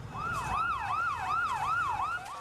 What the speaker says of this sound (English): Ambulances hurtled through the ruined streets.